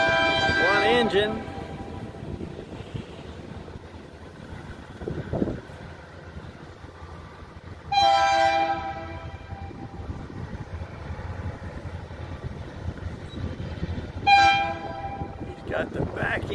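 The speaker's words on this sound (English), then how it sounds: "See, he's got a different sound. That's a like a GP35." A lightly loaded GP35 diesel locomotive rumbles past at a grade crossing, sounding its horn in three separate blasts: a short one at the start, then two longer ones spaced several seconds apart, over steady engine and rail noise.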